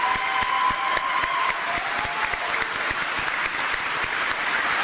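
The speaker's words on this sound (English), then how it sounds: "Please recognize our platform party with a round of applause." A large graduation crowd applauds the platform party at a college commencement, steady dense clapping throughout with a faint whistle early on.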